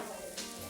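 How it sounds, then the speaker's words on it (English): A steady, crackling sizzle of meat cooking on a grill, dense and continuous throughout the brief moment. "meat sizzling on the grill"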